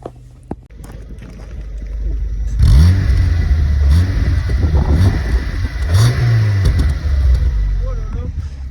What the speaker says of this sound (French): On est parti pour les coups de gaz.